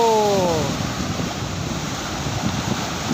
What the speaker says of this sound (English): that's the biggest wave I've saw till now. It's all the way to the cave